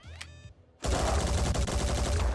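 Rapid automatic gunfire from the video game Phoenix Point erupts after a quiet moment and continues loud and dense, a steady burst of shots alone without talk.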